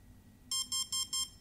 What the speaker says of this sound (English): three beeps is for cutoff mode,